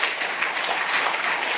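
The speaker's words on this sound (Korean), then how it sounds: "좋은 생각이면 좋다고 쌍수를 들어서 박수해봐요." Audience clapping at a religious reading gathering, a brief, continuous wash of many hands applauding together at fairly even volume.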